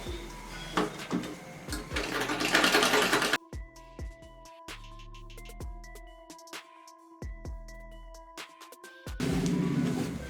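A sewing machine runs a double seam through fabric in bursts, loud whirring stitching at the start and end with a quieter, intermittent mechanical clatter and separate knocks between them.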